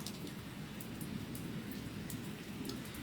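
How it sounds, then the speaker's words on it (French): Heavy rain pours down outdoors while people shelter under cover, a steady, even hiss of falling water with scattered drop hits, heard fairly softly and without a break. "Ah là, il pleut super fort."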